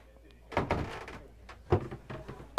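A cabin door to the ensuite heads compartment on a Balt 37 Grand motor boat closes and its small lock is triggered, giving a few close, soft thuds and clicks in a quiet interior, the last one sharper.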